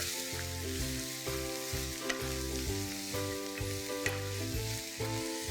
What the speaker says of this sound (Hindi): अब डालेंगे 2 कटे हुए बारीक प्याज। इसे अच्छे से चला लेंगे।